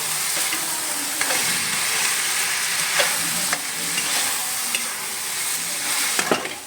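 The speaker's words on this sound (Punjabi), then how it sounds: "ਹੁਣ ਅਸੀਂ ਮਸਾਲੇ ਪਾਣ ਕਰਕੇ 2 ਮਿੰਟ ਅਸੀਂ ਇਹਨੂੰ ਭੁੰਨਾਂਗੇ" Vegetables and spices sizzling as they are sautéed in a pan, a loud continuous frying hiss with occasional spatula scrapes and clinks, no voices.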